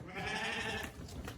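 Sheep bleat in a sustained, loud, nasal call at a livestock sale, with a second fainter bleat following close behind.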